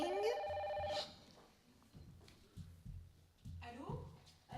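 In a theatre sketch, a telephone rings briefly with a bright, tonal ring at the start, then stops as voices talk quietly.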